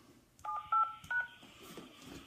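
Touchtone phone keypad tones entering a PIN to log into a Mojo Dialer auto-dialing system: three short, loud dual-tone beeps in quick succession over a quiet background.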